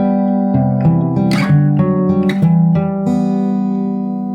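Fingerstyle acoustic guitar plays the opening of a song, a steady stream of plucked single notes over ringing sustained strings, close and clear with no talking.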